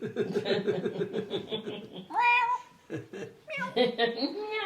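A person's voice playfully imitates a cat's meow, drawn out and wavering, mixed with chuckling and talk.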